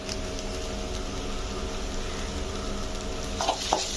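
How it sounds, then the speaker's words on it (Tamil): Chicken masala spice mix sautés in a pan for a mushroom gravy, a steady close frying sizzle with a couple of light stirring scrapes toward the end. "இந்த மசாலா நல்லா பச்சை வாசனை போகிற வரைக்கும் வதக்கிக்கலாம்"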